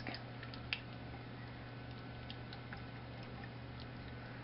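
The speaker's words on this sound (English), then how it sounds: "I'm going to whisk this stuff together" Eggs and wet ingredients whisked by hand in a bowl, a faint quick ticking of the whisk against the bowl in a steady rapid rhythm, quiet and close.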